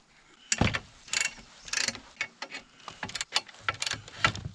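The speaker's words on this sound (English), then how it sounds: "The ratchet wrenches are really handy for adjusting the mill." A ratchet wrench loosening bolts on a Granberg Alaskan chainsaw mill used with a Husqvarna 572XP, heard as close, loud bursts of rapid clicking in uneven strokes with short pauses between.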